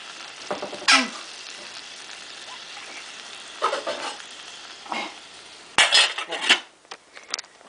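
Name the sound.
covering the stew pot with a lid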